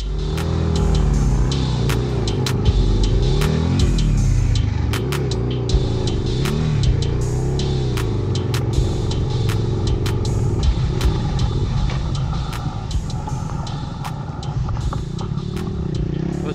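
A Yamaha Tenere 700 adventure motorcycle's engine revs hard and surges in bursts while stuck on a dirt trail hill climb, loud and close, with sharp ticks and knocks from the struggle over rough ground.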